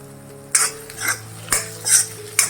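Green chilli thecha with turmeric is stir-fried in oil in a pan, with a spoon scraping and clinking against the metal in regular strokes about every half second over a soft, steady sizzle.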